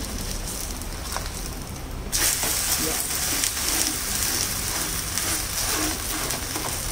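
Wheat-flour breakfast batter fries in a pan, a soft hiss that jumps to a brighter, louder sizzle partway through as it is flipped, then keeps crackling steadily up close.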